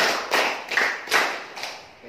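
Students in a junior high school classroom at SMP Negeri 5 Gunung Megang clap in a rhythmic counting routine. Four sharp group claps fall at a steady, even pace, with faint voices underneath.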